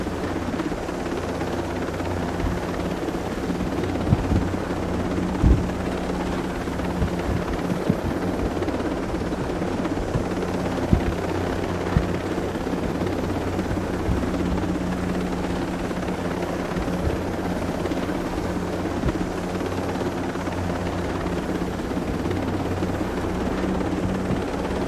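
A helicopter flies in the video game Tom Clancy's Breakpoint, its rotor thrum and engine roar holding steady and loud throughout with faint scattered knocks, no voices heard.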